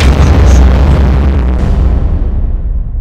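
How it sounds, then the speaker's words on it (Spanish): A loud, heavy explosion booms and then rumbles, its roar slowly fading away over a few seconds. "acaban de poner una bomba en la puerta de mi casa y se está prendiendo fuego"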